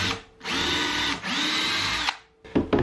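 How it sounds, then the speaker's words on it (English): A power drill pre-drilling holes in pine wood for a rustic bedside table, whining loudly in two sustained bursts with a brief dip between, then stopping with a few short clicks and knocks. "I'm just going to come through here and pre-drill"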